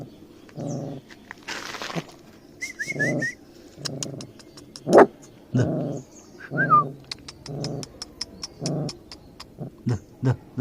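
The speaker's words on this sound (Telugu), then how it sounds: "గుర్రు గుర్రు అంటుంది గైస్ అవి బయటకు వస్తలేవు భయపడతానే అవి" Young puppies hiding under cover give short, repeated low growls and whimpers, close and fairly loud, while thin bird whistles and chirps sound in the background.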